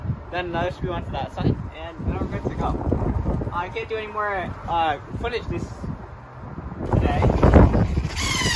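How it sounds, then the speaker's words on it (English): Heavy wind buffets the microphone in low rumbling gusts outdoors on a patio during rear-wall framing work, while someone talks steadily, growing louder near the end. "I do apologize for the wind."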